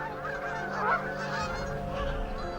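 Wild geese honk again and again amid a dense, overlapping flock chorus, loud and steady across the whole stretch, with no voices.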